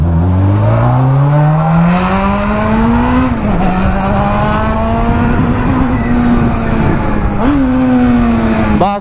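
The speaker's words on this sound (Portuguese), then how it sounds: "esse barulho sem catalisador." A Honda Hornet motorcycle without a catalytic converter revs hard nearby, its engine pitch climbing, dipping and rising again in loud, raspy surges, with faint voices underneath.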